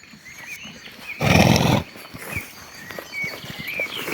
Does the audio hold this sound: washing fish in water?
no